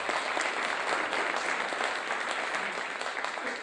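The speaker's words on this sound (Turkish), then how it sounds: "Onu ayrı bir alkışlamanızı istiyorum." Sustained applause from a concert audience for the maestro at a Silivri orchestra's 51st anniversary event, dense and steady throughout with no voices standing out.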